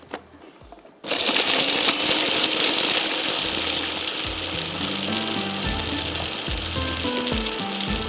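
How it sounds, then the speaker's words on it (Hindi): After a brief quiet moment, an electric food chopper whirs into a loud, steady motor drone as it chops ginger and butter for a mutton marinade, the pitch wavering slightly as the blades work through the mixture. "अब हमने क्या करना है, इसको थोड़ा सा चॉपर को चला देना है"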